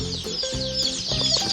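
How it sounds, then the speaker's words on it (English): Baby chicks and turkey poults peep inside a shipping box, a dense, continuous chorus of high, overlapping cheeps, close and fairly loud. "I just went and picked up my order for my baby chicks and turkeys and I want to unbox it with you guys."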